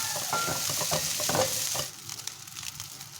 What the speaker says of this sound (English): Keep the temperature nice and high, because it is meant to be a fried rice, not a boiled one.